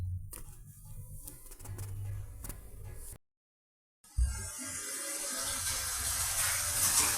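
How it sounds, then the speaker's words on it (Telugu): Chopped ivy gourd pieces being washed in salted water, with soft splashing and handling sounds, a brief silent gap, then a louder steady rush of water nearby. "ఉప్పు యాడ్ చేసి వాటర్తో చక్కగా ఈ పీసెస్ని వాష్ చేసుకుందామండి"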